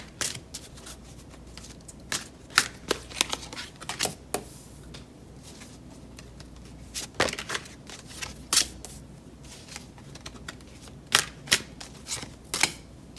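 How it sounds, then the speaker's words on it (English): Tarot cards being shuffled in quick bursts of crisp riffling clicks, pausing briefly between rounds, close up with no talking. "I'm gonna shuffle the tarot cards"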